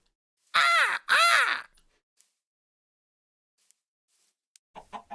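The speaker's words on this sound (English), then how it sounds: "What sounds do crows make?" A crow gives two loud, harsh caws in quick succession, then falls quiet except for a few faint distant sounds.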